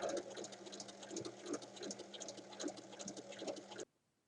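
Sewing machine running steadily through a topstitch along the zipper of a fabric bag, a close rhythmic motor hum with needle patter that stops abruptly near the end.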